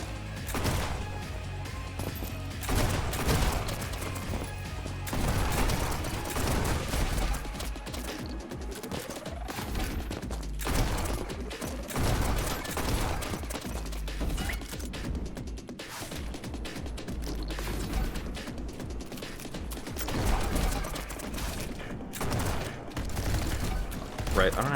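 Rapid gunfire from the fast-paced first-person shooter game Neon White, dense bursts of shots and impacts layered with game music over the whole stretch, loud and continuous.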